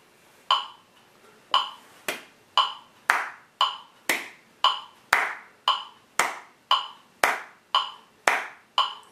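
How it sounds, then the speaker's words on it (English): Hands clap a steady beat, about sixteen sharp claps spaced roughly half a second apart, each one crisp and close, with no other sound between them. "I can also clap in between."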